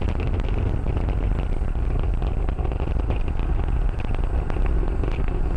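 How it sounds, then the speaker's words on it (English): SpaceX Falcon 9 first stage Merlin engines during ascent, throttled down ahead of max Q on the AX-2 mission: a loud, steady, rumbling roar with crackling texture, continuous and unbroken. "The first stage is throttle down power on the Merlin engines in preparation for max Q."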